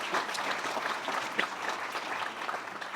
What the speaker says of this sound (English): So let's give all of them a round of applause as well.